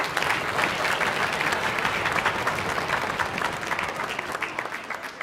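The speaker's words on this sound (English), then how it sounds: "Can you give yourselves and each other a round of applause, please, for your support?" Sustained audience applause at a school Grade 6 holiday concert, a dense, steady clapping from a large crowd that stays loud and continuous from start to finish with no speech over it.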